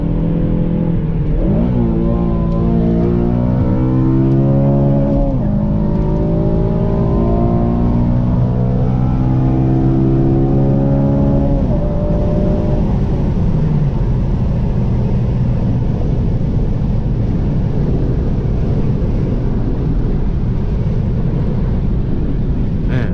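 An 8th-generation Honda Civic Si engine revs up hard through several gears into VTEC, each shift marked by a rising whine, then holds a loud, steady roar with wind and road noise.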